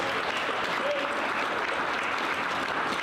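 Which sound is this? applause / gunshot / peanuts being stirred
applause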